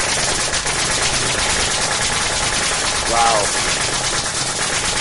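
A nail gun rapidly shoots nails for nail art, a dense, loud, close stream of clattering bursts lasting throughout, with a brief exclamation from a voice partway through.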